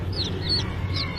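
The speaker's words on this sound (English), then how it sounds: "This is a chick." A chick gives high, thin chirps, a few short peeps repeating over a steady low background rumble, fairly close but not loud.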